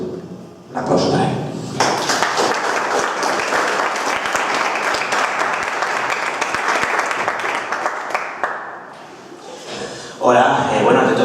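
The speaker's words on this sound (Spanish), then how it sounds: "Un aplauso para él." Lecture audience applauding a speaker on a journalism talk about strange phenomena and witnesses, a dense, steady wash of many hands clapping for about eight seconds before tapering off, with voices around the edges.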